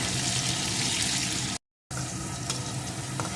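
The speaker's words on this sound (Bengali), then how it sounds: "এখন আলুটাকেও ভালো করে ভেজে নেব" Potato pieces fry in oil with a continuous close sizzle, briefly cut off by a short silent break before resuming, with light stirring clinks and no talk.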